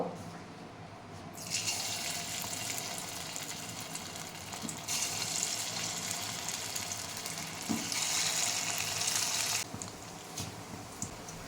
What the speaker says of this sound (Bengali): তেল গরম হয়ে গেছে এবার আমি বড়াগুলো ছাড়বো